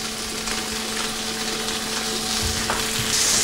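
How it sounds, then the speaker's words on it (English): Veal sautéing in a hot pan, a constant close, loud frying sizzle with a faint steady hum underneath and an occasional brief clink. "Okay, so we've got our veal all sauteed."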